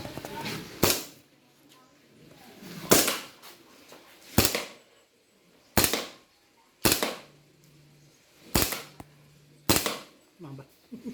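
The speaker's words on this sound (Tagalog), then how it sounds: "Okay, firing." A KJWorks airsoft pistol fires eight loud, close, snapping shots at a slow, fairly even pace, roughly one every second or so, with faint background sound between them.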